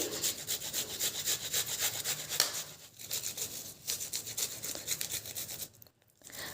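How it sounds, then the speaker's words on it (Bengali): An onion is grated on a grater with rapid back-and-forth rasping strokes, a quiet, close, continuous scraping rhythm with brief pauses near the end. "আমি দেখো গ্রেটার দিয়ে কিন্তু গ্রেট করে নিচ্ছি"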